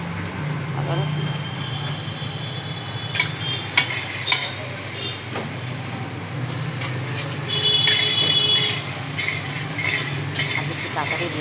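Ginger and garlic sizzle steadily in a hot pan for several seconds, with occasional stirring clatter and a louder burst of frying midway, while people talk nearby in the kitchen.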